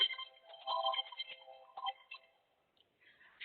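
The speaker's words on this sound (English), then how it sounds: "So with that ringing, I apologize, thought my phone was off." A phone ringing during a nutrition talk, a tonal electronic ringtone warbling at moderate level and fading out briefly before resuming, heard alone without speech.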